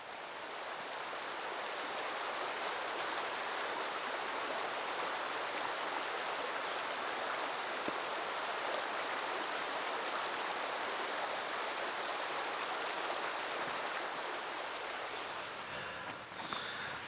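A creek flowing past a flat streamside camping spot, a constant even rush of water that stays steady and moderately loud throughout, with no voices.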